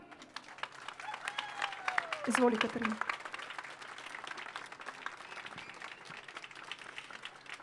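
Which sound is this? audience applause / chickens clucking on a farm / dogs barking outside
audience applause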